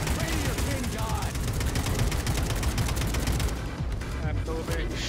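Sustained rapid gunfire from the Atomic Heart video game, dense repeated shots firing nonstop at close range with a voice talking faintly underneath.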